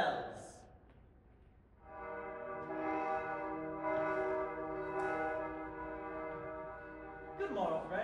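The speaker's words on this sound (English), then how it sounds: "Let us wake them with the bells." Bells rung onstage during a school stage play of A Midsummer Night's Dream, a sustained ringing tone with repeated strikes swelling over several seconds, heard at moderate volume with a brief voice near the start and end.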